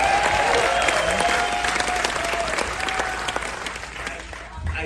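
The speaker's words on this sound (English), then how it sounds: "Another warm round of applause for Meredith Burkich and Ryan Barson." An audience applauds warmly and steadily at a shipboard company event, the clapping loud and sustained at first, then gradually thinning and fading toward the end.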